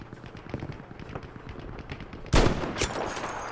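SMG fire in Battlefield 5 crackles in short rapid bursts, quieter at first, then a loud close burst near the end followed by more rattling shots.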